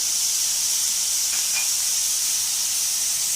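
Chicken frying over high heat gives off a steady, loud hiss that barely changes across the whole stretch, close up and without any voices.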